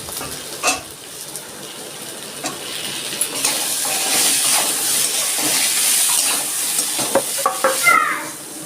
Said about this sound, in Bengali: আলু আমি বেশি ভাজবো না আমার কাঁঠালের বীজ খুব ভালো লাগে আমি এর মধ্যে অল্প করে কটা কাঁঠালের বীজ দিয়ে দিচ্ছি